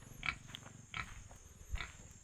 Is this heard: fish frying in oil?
no